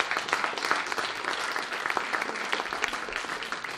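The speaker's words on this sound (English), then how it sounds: "Round of applause." An audience at a university Christmas lecture applauds with dense, steady clapping that stays loud and even throughout.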